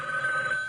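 A telephone rings in an office, a brief steady electronic trill, close and clear, with no voices.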